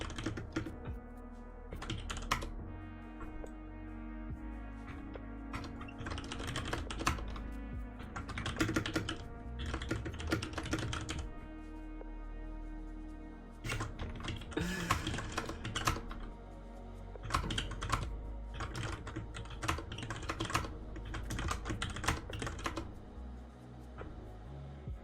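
Steady bursts of rapid clicking come from typing on a computer keyboard, with short pauses between runs, fairly faint and close, with no talk over them.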